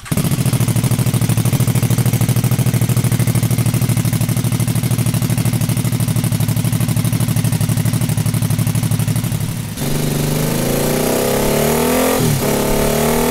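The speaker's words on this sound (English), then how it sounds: "Powered by a V-twin engine, even though you already know what that's going to sound like, let's get some of the clips of this strange Brough." A vintage Brough motorcycle's V-twin engine running loud and close, a steady throbbing idle that shifts to a rougher, varying tone near the end; no talking.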